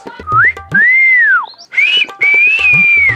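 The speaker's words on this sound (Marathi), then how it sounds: "कुत्रे शिट्टी का मारतोय" A person whistles a sustained, wavering melodic tune in two long phrases separated by a short break, loud and close, with scattered low clicks and handling noise beneath.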